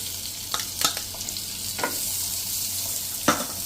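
Two chopped onions hit hot oil and butter in a pan for kadai paneer, giving a steady close sizzle broken by a few sharp stirring clinks and scrapes.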